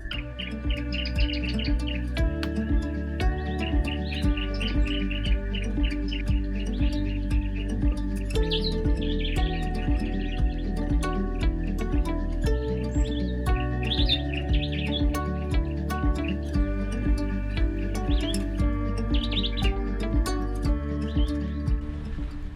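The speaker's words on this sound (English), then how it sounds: "the surrounding bush was alive, with birds flitting between the branches" Repeated bright bird chirps and tweets in South African bush rise over a dense, steady background of tonal music-like sound, continuing throughout.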